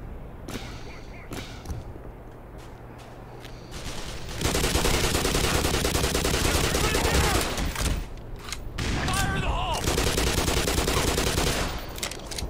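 Pistol gunfire in the video game Black Mesa: after a few sharp early cracks, rapid dense volleys of shots dominate from mid-clip onward, loud and close, with a brief lull before firing resumes; a voice may be faintly present.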